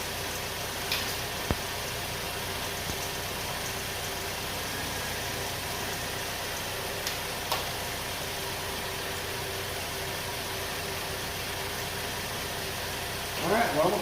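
Chevy Ecotec engine idling in a shop after an exhaust manifold replacement, a steady, smooth low hum with a few faint clicks and knocks, ending in a brief louder clatter.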